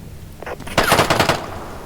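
A machine gun in a video game fires a quick rattling burst of rapid shots, loud and close, after a couple of softer thuds.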